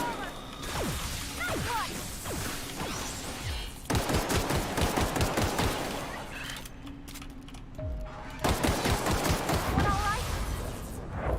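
Rapid bursts of gunfire from The Outer Worlds video game crackle in dense fusillades, broken by short pauses and mechanical clanks, with someone talking faintly underneath.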